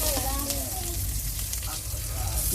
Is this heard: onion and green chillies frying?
yes